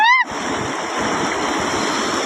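Water flows in a village stream with a continuous, fairly loud rushing, a short high whistling tone briefly sounding at the very start.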